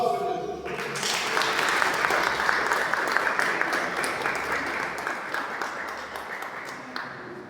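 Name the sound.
applause in a church service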